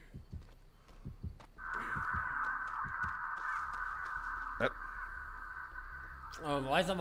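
Crows cawing in the video game Dead by Daylight, a few scattered caws over a sustained game ambience with other sharp clicks, while a voice talks at the end.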